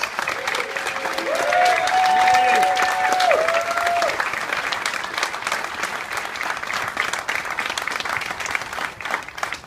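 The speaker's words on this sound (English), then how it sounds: "Let's give another round of applause for Greg Harris and Heather Staines." An audience gives a warm round of applause for Greg Harris and Heather Staines, a steady roomful of clapping that runs on for several seconds, with a voice speaking over it near the start.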